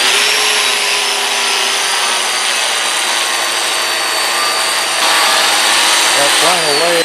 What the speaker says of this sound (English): I've got one of these kind of Scotch-Brite type thick pads here, and it's got some abrasive in it, and that is actually working pretty good to get this cleaned up